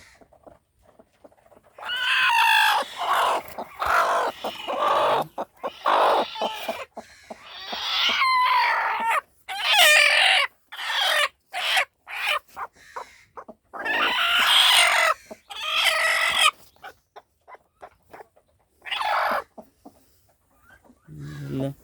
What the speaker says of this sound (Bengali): এখানে আবার দুইটা দেশি মুরগি আছে দেশি মুরগিগুলো ডিম নিয়ে বসে আছে